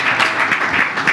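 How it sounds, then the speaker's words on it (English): A brief burst of audience applause at the FestForums 2024 conference, many hands clapping in a close, dense rattle for about a second. "round of applause"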